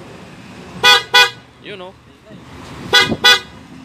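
Two short pairs of bright, buzzy horn beeps from a TMX155 motorcycle sound close by. A brief voice speaks between them over a low background hum.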